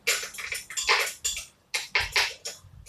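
Repeated metallic scrapes and clinks of a fork scraping creole spice out of a blender, several short bursts in an uneven rhythm, close and fairly loud with no talking.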